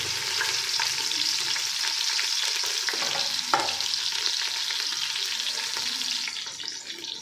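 Crushed country garlic drops into fenugreek seeds frying in hot oil, giving a steady close sizzle with stirring scrapes, a brief sharp clack midway, and the hiss easing toward the end.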